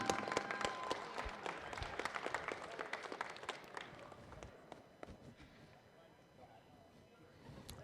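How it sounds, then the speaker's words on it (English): Audience applause rings out for a silver medalist at a collegiate raw powerlifting national meet, sharp dense claps strongest at first and gradually thinning and fading over several seconds in a large hall. "give me a big round of applause for Mr. Marcus Bell."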